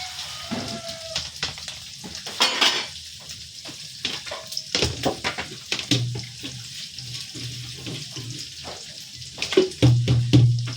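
Vegetables for pancit canton sauté in oil with garlic and onion, giving bursts of close, loud sizzling that swell and fade as they are stirred, with clanks of a utensil against the pan.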